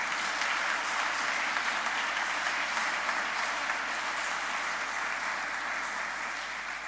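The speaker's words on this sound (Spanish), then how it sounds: "Pues ahora le damos un fuerte aplauso porque son parte del ejército de la Virgen." A congregation at Mass on the feast of the Immaculate Conception claps steadily, a broad, even wash of applause from a large crowd lasting the whole stretch without pause.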